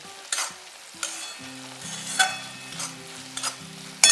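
Raw gram flour is stirred into a frying pan for zunka with drumsticks, giving soft scraping strokes and a few sharp utensil taps against the pan over a quiet background.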